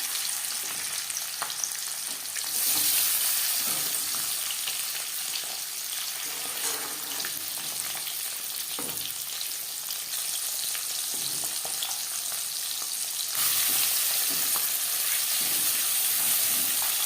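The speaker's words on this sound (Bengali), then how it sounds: "প্রথম ব্যাচের মাছ আমি কম করেই ভেজে নিলাম, কারণ তখন কড়াইয়ের তাপটা ঠিকঠাক থাকে না," Tangra fish sizzle in hot oil in a wok with a continuous crackling hiss that surges louder at the start and end, with occasional spatula scrapes and taps.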